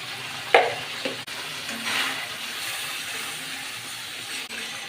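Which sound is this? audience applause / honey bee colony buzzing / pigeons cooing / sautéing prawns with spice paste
sautéing prawns with spice paste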